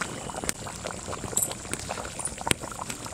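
Mutton curry bubbles in a pot over a wood fire outdoors, a steady soft simmering crackle with a few sharp pops and clicks, fairly quiet and close.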